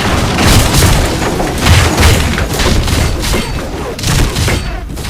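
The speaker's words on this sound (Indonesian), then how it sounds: "Mereka juga menggunakan peralatan artileri." Loud, dense artillery explosions from a kung fu film battle scene, heavy booming blasts rolling one into another in a continuous barrage with crashing debris, close and overwhelming throughout.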